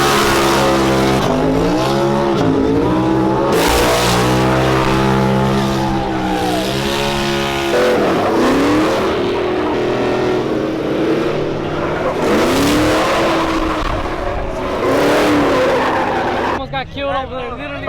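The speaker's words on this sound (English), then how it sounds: "We're seeing if you can let us get in the truck when you do a burnout." A truck's engine roars and revs hard through a burnout, loud and continuous with shifting pitch, tire squeal and skidding mixed in, while people talk and shout nearby throughout.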